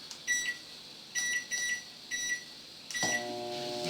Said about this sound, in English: We're going to take these and pop them in the microwave.